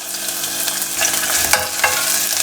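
Chopped ginger and garlic sizzle loudly in hot oil in a pan while being stirred for a Kerala chicken curry, a close, continuous frying hiss broken by a few scraping stirs and clinks.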